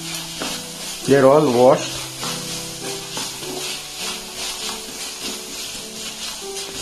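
Green peas tumble into onions frying in a pan while preparing a broccoli green peas brown pulav, bringing a brief clatter over steady sizzling and stirring, with a short spoken remark.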